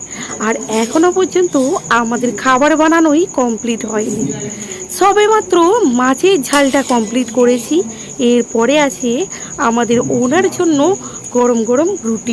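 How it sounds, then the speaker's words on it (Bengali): Crickets chirp steadily through a deep night, a continuous high, even trill running beneath a woman's close, continuous talking about cooking at home. "চারিদিকে শুধু ঝিঝি পোকার ডাক শুনতে পাচ্ছি"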